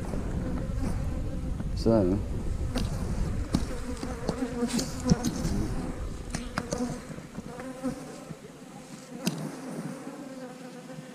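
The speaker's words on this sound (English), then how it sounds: "lot of bees in the bottom, yeah," Honeybees buzz in a steady, dense drone from an open hive box on a farm, holding beneath brief bits of nearby speech and faint handling noises.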